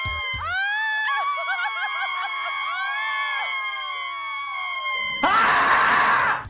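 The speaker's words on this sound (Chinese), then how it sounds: "直接惊喜的尖叫起来" A woman lets out long, high-pitched squeals of delight that rise and fall for several seconds, then a loud burst of noisy commotion follows.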